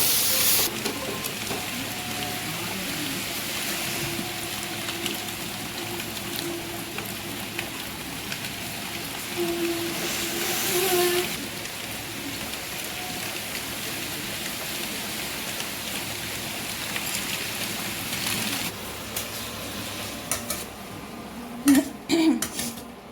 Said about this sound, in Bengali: এবার এটা ভাজতে হবে যতক্ষণ টমেটোটা একেবারে গলে না যাচ্ছে ততক্ষণ পর্যন্ত।